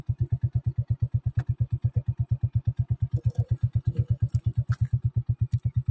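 A motorcycle engine runs close by with a fast, even chugging throb that holds steady throughout, with a little mechanical clatter on top.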